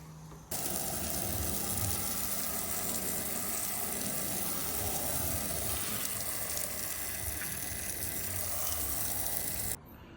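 Water sprays steadily to rinse a car, an Omoda 5, during a home wash, a continuous broad hiss that starts abruptly and stops abruptly after about nine seconds.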